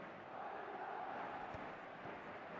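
Stadium crowd noise from an eFootball match, a steady broad roar of many voices swelling slightly midway, with a few faint thuds underneath and no clear speech.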